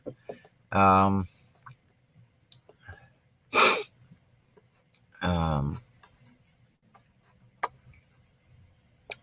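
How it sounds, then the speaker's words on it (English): Several abrupt bursts, one a sharp sneeze, with quiet gaps and faint ticking between them; no talking. "I've got the sneezes this morning."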